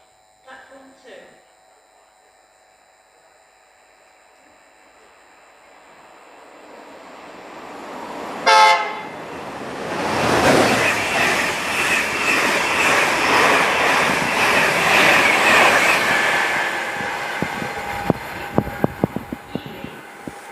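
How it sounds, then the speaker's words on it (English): A train runs through Grantham station on the East Coast Main Line without stopping. A short sharp horn sounds, then a loud rushing roar builds as it passes close by and fades into rhythmic clicks of wheels over rail joints. "The train now approaching platform 2 does not stop here."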